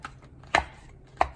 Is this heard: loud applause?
no